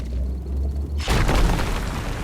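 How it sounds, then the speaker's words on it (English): In RuneScape: Dragonwilds, a rock explosion spell goes off after a quiet low hum: one sudden heavy boom, then a crackle of shattering stone that slowly fades. "we unlocked the ability to cast rock explosion, to make stone gathering so much faster and satisfying"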